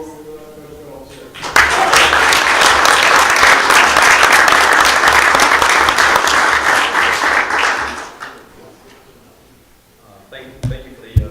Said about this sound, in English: a huge round of applause to our undefeated tennis team